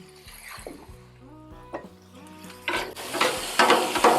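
Tortillas dipped in au jus meet a hot Blackstone griddle, with a few light clinks followed by a loud, crackling sizzle that swells and keeps going close by.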